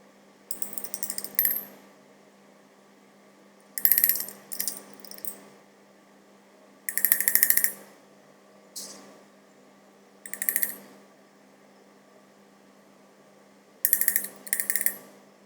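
A clean metal spatula scrapes and taps crude benzoic acid solid into a glass beaker in a lab: close, bright clinks and scrapes in short bursts, repeated about six times with quiet gaps between.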